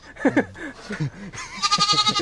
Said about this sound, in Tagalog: Tatagbatin yung kambing yan tayo.